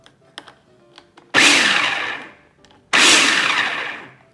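Two bursts from a food processor pulsing lemon meringue pie ingredients, each a loud whirring roar lasting over a second and trailing off, separated by a short pause and preceded by faint clicks and handling.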